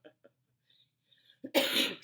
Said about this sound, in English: I will be coughing.